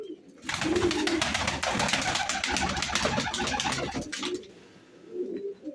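Young pigeons coo in a loft, several soft throaty calls overlapping with a burst of wing flutter in the middle, close by.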